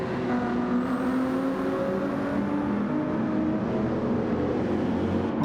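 Race cars in a racing video game, a Ferrari and a Dodge Viper among them, hold a steady, loud, continuous engine drone with no break or talk over it.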